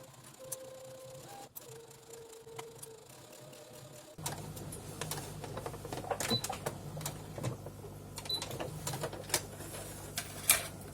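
A home sewing machine stitches a fabric scrunchie, starting after a few seconds of quiet handling and then running as a rapid mechanical whir with clicking needle strokes for several seconds, close and moderately loud.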